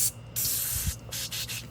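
Spray Away cleaner hissing from an aerosol can onto rusty car headers in several bursts: one long spray, then shorter quick puffs with brief gaps, close and crisp.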